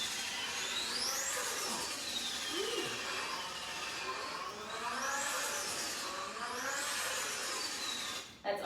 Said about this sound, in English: That is a Nissan Skyline GTR R34, which is a very super popular car